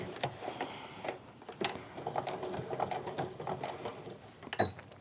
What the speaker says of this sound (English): I'm just sewing right around that rectangle that I drew around where everything is going to be.